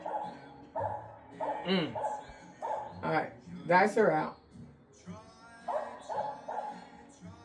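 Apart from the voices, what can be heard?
dog barking in the background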